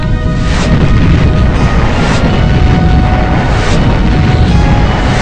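Loud, continuous rumbling video game explosions fill the clip, with heavy, distorted blasts swelling again and again without a pause.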